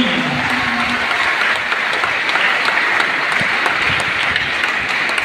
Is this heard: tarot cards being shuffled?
no